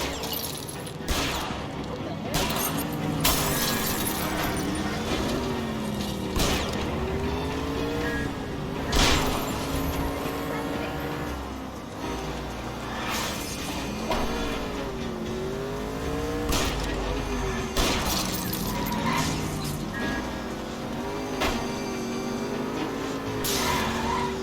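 A car chase in the video game L.A. Noire: a revving engine roars steadily throughout, broken by repeated tire squeals and skids as the car swerves hard, loud and continuous.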